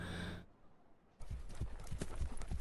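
Hooves clip-clop in a quick, uneven rhythm after a brief lull, several horses moving together at close range, in the video game Tiny Rails.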